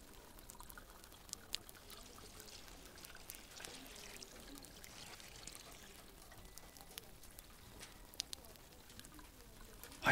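Water is poured onto a flower, a quiet, continuous trickle and patter lasting several seconds with a few small clicks, faint and close, with no talk.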